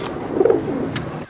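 Birds coo softly with a brief chirp in a home courtyard scene, a pigeon-like low cooing close by and fairly loud, standing alone without speech.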